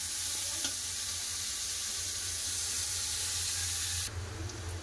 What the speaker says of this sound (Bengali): একটু ভালো করে লাল লাল করে ভেজে নেবো।